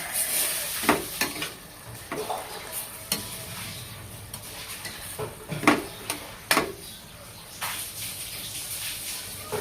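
Carrots and potatoes sautéing in a pan for menudo, a soft sizzle punctuated by irregular spatula scrapes and clacks against the pan, close by with no talk.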